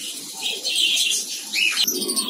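Pet birds on a Bangladeshi bird farm during hot weather give bright, overlapping chirps and calls, with a dove-like coo underneath, filling a short, steady stretch close by.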